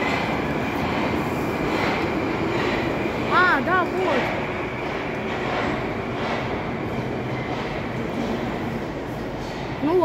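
Red Arrow passenger train at a station, a low steady rumble with brief squeals and hums as it begins departing, voices talking faintly over it.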